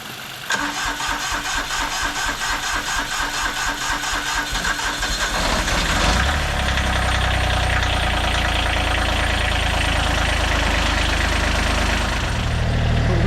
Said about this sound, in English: We're going to try and start the tractor now.